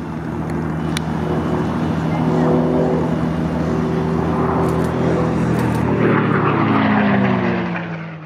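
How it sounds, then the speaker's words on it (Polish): WWII fighter aircraft racing in the Unlimited class of an air race roar past with a loud, droning piston-engine and propeller tone that rises and falls in pitch as they pass close by. "Zobaczymy tu seryjne i modyfikowane samoloty myśliwskie z czasów II wojny światowej."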